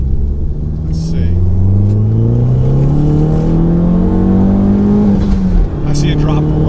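A turbocharged Fiat 500 Abarth engine winds up steadily toward redline, its rising drone loud and close, then lets off briefly before pulling again.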